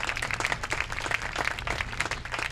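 Scattered applause from an awards-night audience honoring a Silver Slugger winner, steady clapping of moderate loudness with some low rumble and faint voices mixed in.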